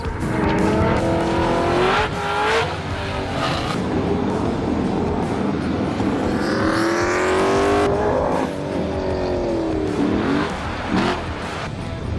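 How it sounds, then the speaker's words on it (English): Cars making autocross runs at an LS engine festival track in Las Vegas, loud continuous engine revving with rising gear sweeps and repeated tire squeal, close and steady throughout. "let's chill out and watch a couple runs"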